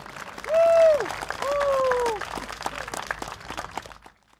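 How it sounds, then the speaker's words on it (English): At an outdoor stadium political rally, a crowd claps and cheers while a voice shouts over the top, the applause moderate and somewhat distant before tapering off near the end. "can we once again give him a round of applause for that very, very impassionate plea together?"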